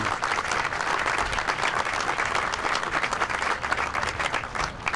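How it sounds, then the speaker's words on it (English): An audience at a community center dedication ceremony claps steadily, a dense, even wash of applause that holds at full strength throughout. "let's give a round of applause to everyone who has been involved with this facility"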